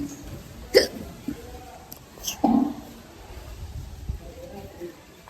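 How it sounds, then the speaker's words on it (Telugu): Several quick hiccups pop out at irregular intervals, fairly close, over a low background hum. "ఇద్దరికి ఎక్కిళ్ళు పుట్టేసినాయి"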